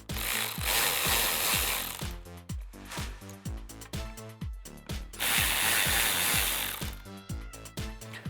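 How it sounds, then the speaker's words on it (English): A T15 Torx bit backs out the two top bolts of a MAF sensor on a 2009-2013 Silverado 1500 5.3L, giving close ratcheting clicks in quick repeated bursts between brief steady whirring spells. "with your T15 Torx bit, remove the two bolts at the top to remove your MAF sensor"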